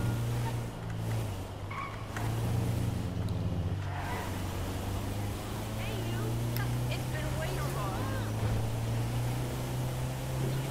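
A car drives in GTA 5 Online with a steady engine drone that shifts pitch a few times, while people talk over it throughout.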